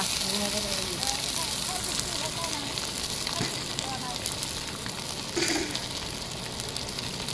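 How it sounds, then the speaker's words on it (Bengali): Fish frying in a large pot while cooking for a 150-person event, a steady sizzle and hiss underneath nearby voices that chatter over it. "এখন মাছ রান্না হচ্ছে"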